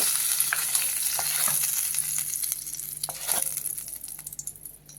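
Hot tempering poured over capsicum bharit, a strong close sizzle that crackles and spits, with utensil clinks and scrapes scattered throughout, fading somewhat toward the end.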